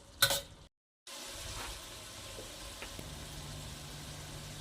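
Soft, steady sizzle of curry leaves and beans frying in a pan after a brief clatter and a moment of silence, continuing evenly and quietly.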